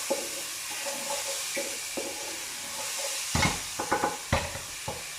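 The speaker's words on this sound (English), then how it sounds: "So you can hear them sizzling through" Food sizzles quietly in a pan, a soft steady hiss punctuated by a few louder clatters and stirring scrapes.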